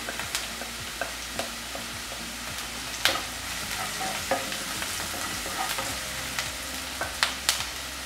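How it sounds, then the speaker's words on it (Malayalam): Onions are sautéed in oil with turmeric, chilli powder and garam masala. A continuous close sizzle runs under regular spatula scrapes and taps on the pan, and no one speaks. "ഇനി നമുക്ക് ഈ പൊടികളെല്ലാം ചേർത്ത് വഴറ്റി കൊടുക്കാം"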